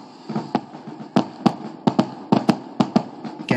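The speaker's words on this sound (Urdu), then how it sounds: "بنیاد المرصوص کی کامیابی پر جم خانہ انتظامیہ کی جانب سے شاندار آتش بازی کا مظاہرہ کیا گیا" Fireworks display at a gymkhana celebrating a military success, a loud close series of sharp bangs and crackles coming at irregular intervals, roughly a dozen bursts in a few seconds.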